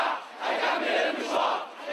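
A large protest crowd in Tahrir Square, central Cairo, roars and chants together, a dense surging wall of voices rising and falling in waves.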